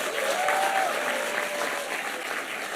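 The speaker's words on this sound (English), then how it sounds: "Can you give a hymnodic round of applause for yourselves?" Audience at a hymn-themed show giving a round of applause, dense sustained clapping filling the room with faint voices underneath.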